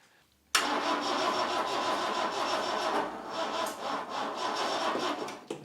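A Vauxhall Chevette engine, left abandoned for over ten years, cranks with a loud steady churning after a sudden start, its pulsing starter rhythm continuing unbroken for several seconds close by, without catching into a clean run.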